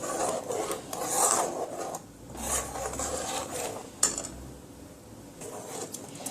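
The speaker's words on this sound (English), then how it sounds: "And remember that you have to keep stirring, because you don't want anything to be lumpy." A spoon stirs thickening pasta sauce in a pot, producing soft scraping and rubbing strokes close by, uneven in rhythm with a sharper tap partway through.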